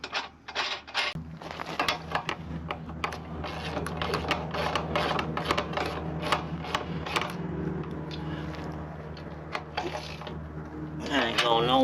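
Ratchet wrench torquing down a nut over washer and lock washer on an RV tire mount, a rapid run of sharp metallic clicks in bursts over a steady low hum, close and fairly loud, with some speech-like sounds mixed in.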